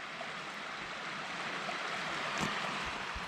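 A creek flows steadily beside old ruins, a soft continuous wash of water with no voices.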